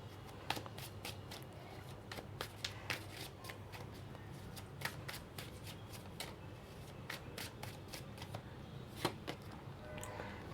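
Tarot cards being shuffled by hand, a steady run of crisp riffling snaps and taps repeating close up over a faint low background hum, with no talking.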